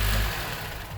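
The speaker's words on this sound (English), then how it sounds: "there's the engine running smooth" Honda K24A four-cylinder in a 2010 Acura TSX after an engine swap, idling steadily with a low, even hum, loud and close, with no voices.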